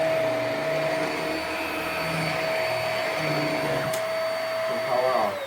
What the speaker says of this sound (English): So I'm trying out this vacuum that I got